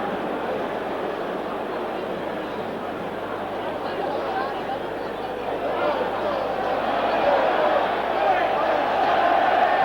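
A large Italian football crowd at a Champions League match between Milan and Real Madrid roars and chants in a dense, continuous wash. The noise swells louder in the final seconds, and a commentator's voice speaks over it.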